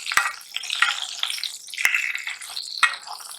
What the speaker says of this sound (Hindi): अंडे फ्राई करेंगे। तो देखिए इस तरह से